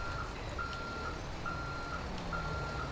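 Steady, evenly spaced beeping of a truck reversing in GTA 5 in the city of Los Santos, repeating about every second over a continuous low traffic rumble.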